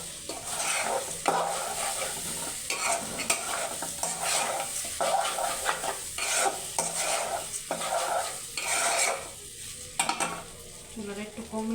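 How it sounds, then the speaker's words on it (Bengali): Rice for egg biryani being stir-fried in a pan, a continuous crackling sizzle with rhythmic scraping and clinking of a spatula against metal, close and steady throughout. "আমি একটু ভালোভাবে ভেজে নিচ্ছি।"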